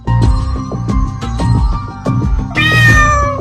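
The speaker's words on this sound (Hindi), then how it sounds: "पास ही बैठी थी मीनू बिल्ली गर्व से हर दिशा पर नजर रखे हुए" A cat meows repeatedly and loudly up close, a quick series of short, bright calls ending in one longer, drawn-out meow.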